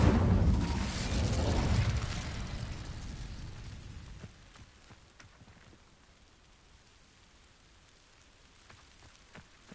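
A fire spell ignites dry vines in a fantasy video game, a loud whooshing, crackling burst of flame that roars for about four seconds and then fades to a quiet, flickering burn.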